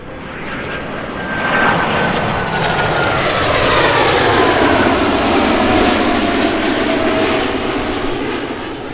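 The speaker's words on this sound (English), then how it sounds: "our Boeing 777-300ER is making its first ever appearance at the EAA Aviation Convention in Oshkosh" A United Airlines Boeing 777-300ER jet makes a high-speed pass at the EAA AirVenture air show in Oshkosh, Wisconsin, its loud engine roar swelling steadily and holding with a sweeping pitch shift as it flies by.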